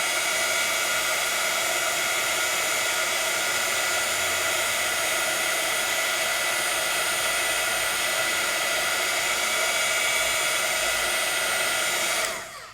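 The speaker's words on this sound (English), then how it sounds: "my heat tool." Heat tool blowing hot air to melt embossing powder on a die cut, a loud steady whirring hiss like a hair dryer that runs continuously and cuts off at the end.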